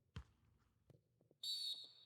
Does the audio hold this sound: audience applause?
no